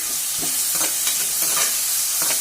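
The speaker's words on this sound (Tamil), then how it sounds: "வெங்காயம், பூண்டு இதெல்லாம் நல்லா வதங்கட்டும்." Onion and garlic sauté in a pan as the base for a chickpea kuzhambu, a soft continuous sizzle broken by repeated scraping stirs of a spoon.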